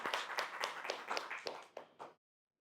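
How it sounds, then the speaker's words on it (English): A few audience members clap for Ada Ackerman at an AI conference, with distinct, fairly sparse claps in an irregular rhythm that stop abruptly after about two seconds. "Let's give a big hand of applause to Ada Ackerman."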